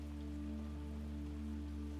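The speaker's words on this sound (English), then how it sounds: "This rain was coming down in earnest, hard and full and close, hammering on the roof just over your head" Heavy rain hammers on a roof just overhead, a dense, steady, close roar that never lets up across the whole stretch.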